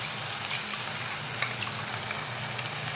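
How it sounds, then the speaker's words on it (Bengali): Ginger garlic paste sizzles in a hot pan as part of frying a pepper prawn dish, giving steady, crackling hiss heard close up and alone with no talking. "এবার এর মধ্যে দেব আদা রসুনের পেস্ট।"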